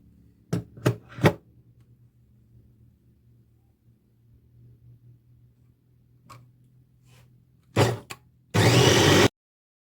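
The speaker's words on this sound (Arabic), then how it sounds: "دابا غادي نغلق عليه وغادي نطحنو" Coriander, parsley and garlic whirring in an electric food chopper with chicken for a roast-chicken marinade, a loud, dense burst of chopping near the end after a few short clicks and knocks, with no talking.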